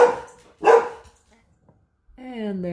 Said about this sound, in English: And there's my dog, right on schedule.